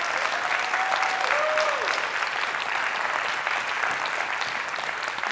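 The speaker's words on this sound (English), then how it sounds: "let's give one final round of applause" An audience at a startup pitch event breaks into sustained applause, a dense wash of clapping that holds steady for several seconds, with a few faint whistles or cheers in the crowd.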